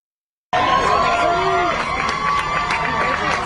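Outside a Baltimore Circuit Court, a swarming crowd makes a dense, continuous roar of shouts and cheers with scattered claps, starting abruptly and staying loud throughout.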